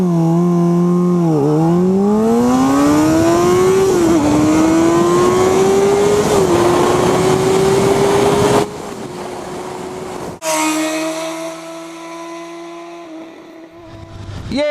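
A motorcycle accelerates hard in a zero-to-60 run on an Ohio country road, engine note climbing loudly through several gear shifts, then dropping and settling into a lower steady drone.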